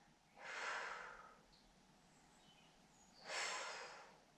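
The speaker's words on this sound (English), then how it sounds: "Breath in and gently blow." Two soft breaths in a quiet room, each a gentle, airy blow as if cooling a cup of hot chocolate, close and faint, separated by a short pause.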